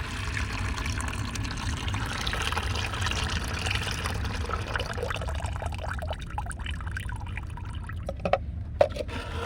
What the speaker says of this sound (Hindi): ये देखिए इस प्याज को पानी को मैंने छान लिया।